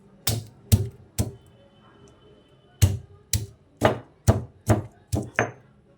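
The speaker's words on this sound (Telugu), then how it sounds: "తాలింపులోకి 4 ఎల్లిపాయలు ఇలా దంచుకుంటున్నానండి" Four garlic cloves are pounded for a tempering in a bitter gourd pickle, giving sharp, loud thuds close by: three quick strikes, a pause, then a steady run of about seven more.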